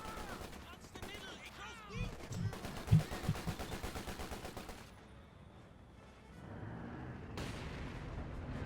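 Rockets and mortar fire in a Company of Heroes 2 4v4 match: dense bursts of gunfire and artillery thuds pile up through the first half, with a commentator talking over them, then thin into lower rumbling battle noise.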